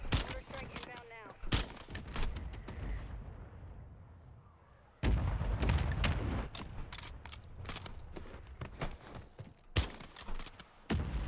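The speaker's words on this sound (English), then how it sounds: "Mortar strike inbound now." Mortar strike explosions in a video game land as heavy booming blasts and crackling gunfire, with a sharp loud impact midway, mixed with game sounds and brief voices.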